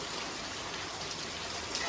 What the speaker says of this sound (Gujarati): જોરદાર વરસાદ પડી રહ્યો